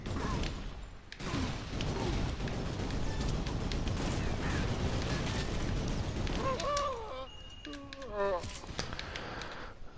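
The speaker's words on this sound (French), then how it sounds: "petite grenade." A small grenade explodes in a PS4 shooter game, part of dense, continuous gunfire and blasts, with someone talking over the noise throughout.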